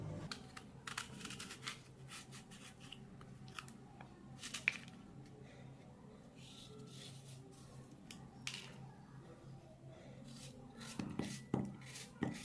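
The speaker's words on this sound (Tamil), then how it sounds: "ஒரு ஆப்பிள் எடுத்திருக்கேன் இதையும் நம்ம கட் பண்ணி போட்டுக்கிடுவோம்" A knife slices an apple in a kitchen while fruit and ginger are prepared for a drink, giving faint, irregular crisp cuts and taps against a quiet background.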